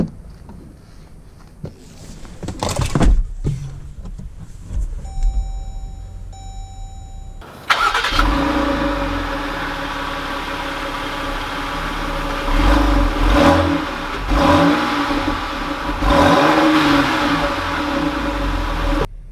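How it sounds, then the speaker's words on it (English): A 2020 Dodge Durango GT has its engine cranked and started, with a chime before ignition. The engine then settles to a steady idle before revving and pulling away in several rising surges, close and loud, with no speech. "let's take the GT Durango out to see how it drives"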